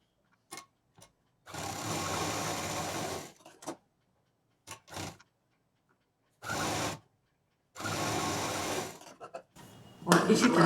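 A sewing machine stitches patchwork bag pieces in several short runs of rapid whirring, separated by quiet pauses and a few faint clicks.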